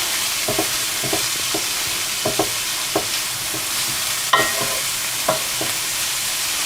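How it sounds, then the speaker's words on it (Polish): Onion and carrot sizzle steadily in a hot pan, with a few soft clinks and scrapes of a utensil stirring now and then. "Dobra, niech się to ładnie smaży."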